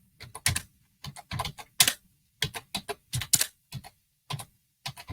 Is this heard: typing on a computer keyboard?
yes